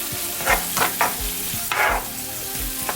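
Food frying in a pan is stirred with steady sizzling underneath, while a utensil scrapes and knocks every half second or so, close and fairly loud, with no talking.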